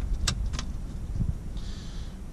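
Aircraft key inserted into the ignition during a preflight check, a couple of bright metallic jangles and clicks close by, followed by a faint whirring hum.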